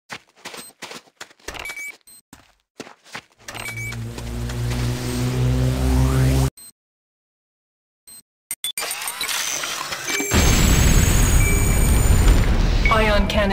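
C4 plastic explosive in a video game goes off after stretches of clicks, an electronic drone, voices and a brief silence, arriving as a loud, broad, sustained roaring blast that fills the final seconds.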